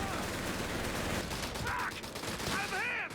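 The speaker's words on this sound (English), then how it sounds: "but machine gun holding strong" Dense, sustained gunfire rattles through a battle in Company of Heroes 3, continuous crackling shots with a couple of brief whistling tones over it, no pauses across the short stretch.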